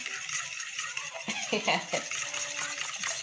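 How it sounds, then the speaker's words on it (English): Flour sieved into a mixture for Yorkshire pudding while a spoon stirs, giving a run of light tapping, scraping clinks in the middle under a continuous hiss. "I'm gonna sieve while stirring at the same time"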